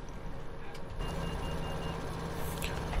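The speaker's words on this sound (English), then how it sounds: "Something's beeping at me." A vehicle in the Farming Simulator video game, beside a machine that has just been shut off and a 4020 tractor, gives faint repeated beeps. The beeps sit over a steady loud engine drone with no talking.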